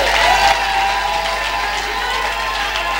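Church congregation applauding and cheering during a worship service, a steady dense wash of clapping and crowd noise with a sustained tone running underneath, loud and continuous throughout.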